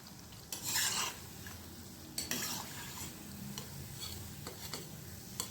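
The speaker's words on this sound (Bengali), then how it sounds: "এবার তেলটা গরম করতে দিয়েছি, দিয়ে দিলাম সব পেঁয়াজ পকোড়াগুলো। এবার ভেজে নেব।" Onion pakoras fry in hot oil with a soft, steady sizzle, broken by sharp utensil scrapes and clinks as they are turned in the pan.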